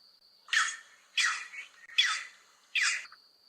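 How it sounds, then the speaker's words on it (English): Four harsh, squawking calls of a striated heron in a steady series, each a short rasping burst, with a faint high whine in between. "This is your striated or greenbacked heron call."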